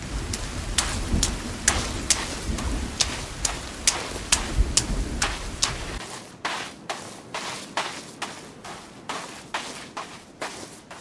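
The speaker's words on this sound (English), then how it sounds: "the rain literally changes up how things sound when you're walking around" Steady rain falls in the Sons of the Forest survival game, with broadband hiss and a run of sharp, evenly spaced impacts, likely wet footsteps, that continue after the low rumble drops away midway; no speech.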